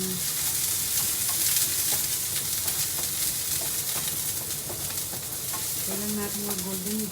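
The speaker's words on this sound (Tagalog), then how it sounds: "lagay na natin itong sibuyas" Sliced onions sizzle steadily in a hot pan for pork adobo, with scattered stirring scrapes throughout and a faint voice-like tone near the end.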